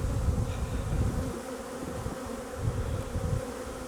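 A steady low drone of many honeybees buzzing close by at an open hive, continuous with slight swells in intensity and no voices.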